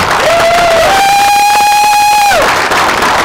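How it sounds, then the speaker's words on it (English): A high school crowd at a military signing ceremony claps and cheers loudly, with a sustained piercing whistle rising and holding over the dense applause before fading. "Ladies and gentlemen, if we can give one big round of applause for these 9 individuals sitting here today."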